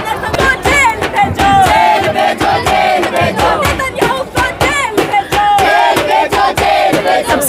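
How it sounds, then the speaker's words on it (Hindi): A large crowd of protesting students and youths, at a rally in solidarity with the Global March where Netanyahu posters are held up, chants and shouts loudly in rhythmic bursts. Many overlapping voices fill the scene close by and continuously. "ये पूरी भीड़ है"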